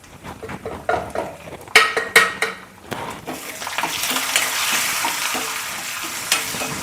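Coconut pieces fry in a pan while being stirred, giving several clattering scrapes up front and then a steady loud sizzle that settles into a continuous hiss.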